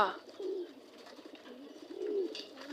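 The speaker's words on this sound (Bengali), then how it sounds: "এখানে মোটামুটি ভালো কবুতর আছে" Pigeons cooing in a loft where newly bought birds are being released, a few soft, low rolling coos spaced out over a faint background.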